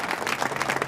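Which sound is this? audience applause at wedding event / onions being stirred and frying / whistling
audience applause at wedding event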